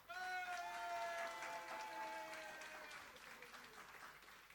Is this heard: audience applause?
yes